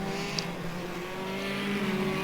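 Classic Hot Rod race cars lap the oval at Hednesford, their engines droning in a continuous blend of revving tones at moderate distance, the pitch rising slightly toward the end.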